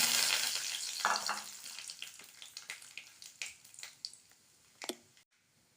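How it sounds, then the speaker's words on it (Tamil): Mustard seeds and urad dal spluttering in coconut oil for a tempering: a soft frying hiss with scattered small pops and crackles that thin out and fade toward the end, close and fairly quiet with no voices. "கடுகு பொரிஞ்செடுத்து 2 உளுத்தம்பருப்பு சேர்க்குறேன்"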